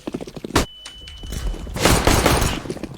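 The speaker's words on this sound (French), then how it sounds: "Throwing a flashbang." A flashbang grenade goes off in Counter-Strike: Global Offensive with a sharp bang, a thin high ringing tone, then a burst of dense crackling noise.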